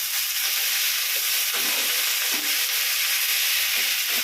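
Onions, tomatoes, curry leaves and coriander sautéing in a pan for a spicy tamarind curry, a constant loud sizzling hiss with soft scraping stir sounds scattered through it.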